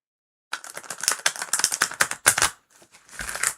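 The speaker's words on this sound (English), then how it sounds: "No, that wasn't a nice shuffle." Tarot cards riffled and shuffled by hand in a quick crisp flurry of papery snaps, a short pause, then another burst of shuffling, close and fairly loud with no talking.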